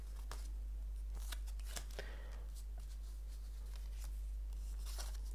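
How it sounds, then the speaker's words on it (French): Tarot cards are drawn and handled from a deck, giving soft, close papery flicks and slides in scattered bursts over a low steady hum. "Je vais retirer une carte dessus."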